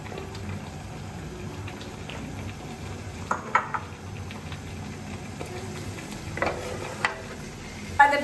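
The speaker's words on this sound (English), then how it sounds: "I'm gonna put again garlic, sauteing this a little bit, and then I'm gonna put the meat in here, saute the meat." Onions, garlic and meat sauté in a pan with olive oil for a zucchini-leaf stew, a steady soft sizzle running throughout with a few sharp stirring clinks near the end.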